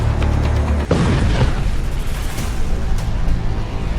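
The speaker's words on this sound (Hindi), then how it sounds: "तेल के जहाज पर बमबारी" Heavy explosion from bombing of an oil tanker at sea: deep rumbling boom with sustained low roar, loud and close, trailing off into rolling noise.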